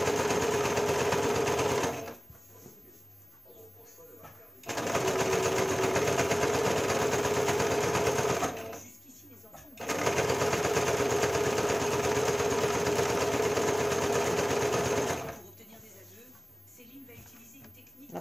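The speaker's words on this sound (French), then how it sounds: "Et on coud le biais." A sewing machine stitching bias binding around a neckline runs in three loud, steady bursts of fast mechanical whirring, each stopping abruptly, with short quiet pauses between them.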